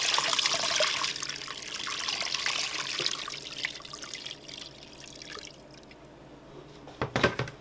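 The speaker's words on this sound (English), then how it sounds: "I'm gonna put enough water" Water from a tap pours into a Cosori pressure cooker over a whole hen for chicken and barley soup. A soft, steady splashing trickle fades toward the end, then a brief clatter follows.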